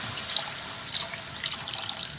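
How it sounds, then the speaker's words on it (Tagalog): Water trickling and splashing steadily into a cooking pot during home cooking, a soft continuous pour with small drips, fairly close and fading slightly at the end, with no talking. "Talagyan po natin ng tubig."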